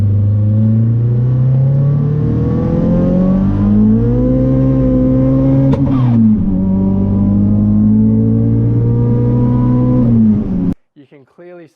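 Turbocharged race car accelerating hard during roll racing: a loud, sustained engine roar climbing through the gears with rising pitch and brief shift dips, close and continuous, cutting off abruptly near the end.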